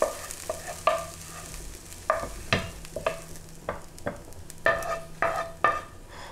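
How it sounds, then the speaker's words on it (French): Sliced onions frying in a little oil in a pan, a steady sizzle broken by frequent scraping stirs and clinks of a utensil, close and fairly loud, with no voices. "vous rajoutez un petit peu d'huile tout simplement. Et on va faire cuire les oignons."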